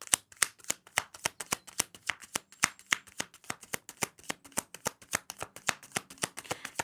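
Tarot cards are shuffled and snapped down in a quick, steady run of crisp riffling slaps, close and fairly loud, with no talking.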